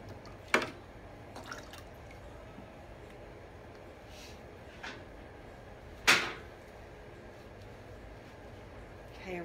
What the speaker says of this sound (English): I rinsed off my brush some more